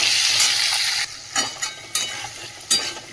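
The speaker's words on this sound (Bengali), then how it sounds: "চলো আলুটা ভাজা হোক" Washed potatoes fry in hot oil in a home kitchen with a loud steady sizzle, then quieter crackling broken by sharp bursts as the pieces are stirred and turned.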